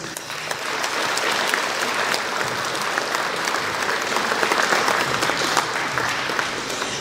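A hall audience at a festive municipal social-services (CCAS) meal gives volunteers sustained, even applause, many hands clapping steadily for about seven seconds with no talking over it.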